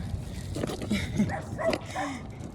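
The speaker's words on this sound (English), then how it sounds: "there's a dog." A dog makes short yips and whimpering barks nearby, a few scattered bursts over a murmuring room background with some talking.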